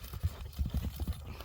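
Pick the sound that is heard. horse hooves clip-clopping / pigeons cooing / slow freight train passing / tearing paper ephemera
horse hooves clip-clopping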